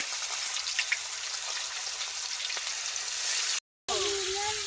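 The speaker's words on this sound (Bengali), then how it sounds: "এখন মাছটি বাজ্যা নিব" Sarpunti fish coated with turmeric and salt fries in hot oil with a steady, close bubbling sizzle and scattered pops, broken by a short silent gap near the end.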